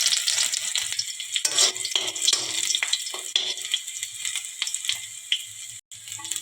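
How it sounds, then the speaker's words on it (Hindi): Green chilies and garlic hit hot oil already tempered with cumin, mustard seeds, fenugreek, cloves and carom seeds, producing a loud, crackling sizzle with bursts of spattering that settles into a steady frying hiss. "और अब डाल देते हैं हरा मिर्चा, डाल देते हैं लहसुन,"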